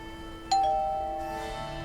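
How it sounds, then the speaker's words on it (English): A video game doorbell in Lake chimes once with a bright ding, then its tone rings on and slowly fades, alone with no talking. "Oh yeah, ring doorbell."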